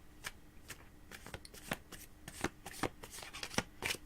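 Tarot cards shuffled by hand before a psychic reading, a close run of crisp riffling bursts repeating in a loose, uneven rhythm with no voices.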